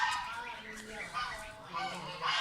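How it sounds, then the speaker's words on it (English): A baby goose honks repeatedly at a lake, several short nasal calls in quick succession, fairly faint and close, with no clear talking over them. "it's the baby goose."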